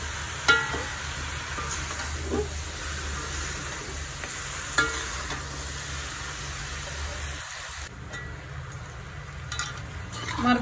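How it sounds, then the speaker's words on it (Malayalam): Beef frying in oil in a pan for a Kerala-style beef fry, a steady sizzle running throughout with occasional louder scrapes and clinks of stirring, close and without voices. "മറിച്ച് കൊടുത്ത് നന്നായിട്ട് മുരിച്ചെടുക്കണം."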